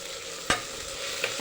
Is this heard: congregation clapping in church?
no